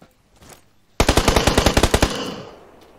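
Rapid automatic gunfire from the PUBG Lite battle royale game, likely a QBZ rifle, a burst of about a dozen close, loud shots ringing out with a short decaying tail and no talk over it.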